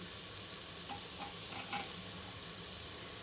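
Curry leaves fry in hot oil for biryani, giving a steady hiss with a few brief crackling bursts near the middle, faint and close, with no voices.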